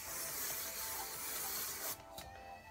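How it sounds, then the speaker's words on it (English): An aerosol can of hairspray hisses in one steady, close, broad spray onto hair that lasts nearly two seconds and cuts off abruptly, followed by faint handling sounds. "And then I have my hairspray that I love using, and I like going like this. I'll just spray that on."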